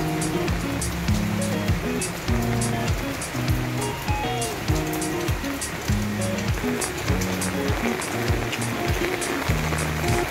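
Heavy rain pours over a garden of adenium plants after two hours of downpour, a continuous broadband hiss with a repeating tonal pattern pulsing through it at regular intervals and no talking.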